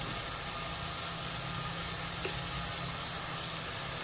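Fish curry ingredients (sliced aromatics with salt) sauté in a pan. A steady, dense sizzle runs unbroken and fairly loud throughout, with no talking.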